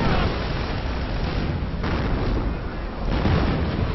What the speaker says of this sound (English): Hummel self-propelled artillery, that's something that you can get in the Scorched Earth tactics